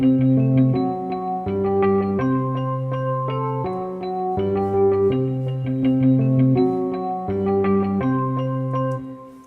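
A piano-like melody created from a bass line in Easy Keys plays alone, with steady repeating chords and a lower note pattern cycling over about nine seconds at an even, moderate loudness.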